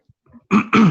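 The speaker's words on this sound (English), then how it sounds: "Had to clear my throat for a second" A close, sharp throat clearing in two quick bursts after a brief quiet moment, loud and alone.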